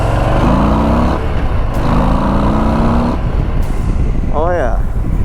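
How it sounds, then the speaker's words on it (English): A Harley-Davidson Low Rider ST with the 114 engine rumbles steadily on a demo ride at Sturgis, a loud continuous low engine drone with wind noise, rising in pitch in two brief revs before a chirp near the end. "and this is the 114 engine."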